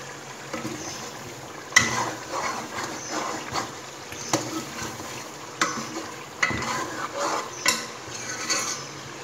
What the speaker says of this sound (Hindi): चूल्हा कम है और ये भुन रहा है